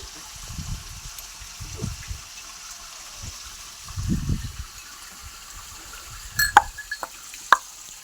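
A cow drinks water, with soft intermittent sloshing and gulping sounds in a quiet outdoor setting, a few sharper splashes near the end.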